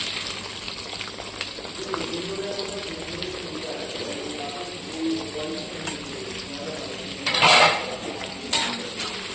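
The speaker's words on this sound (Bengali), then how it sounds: "এবার পেঁয়াজটাকে খুব সুন্দরভাবে লাল লাল করে ভেজে নেব।" Chopped onions fry in goat fat for a goat meat and potato curry, giving a steady close hiss with light clinks and scrapes of a utensil stirring, and a louder scraping burst near the end.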